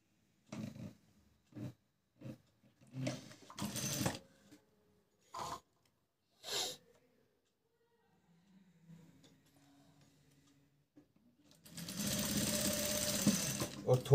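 A sewing machine stitching lace onto a fabric tassel made from leftover cloth runs in one steady, whirring burst near the end, close and fairly loud, after a stretch of spoken instruction.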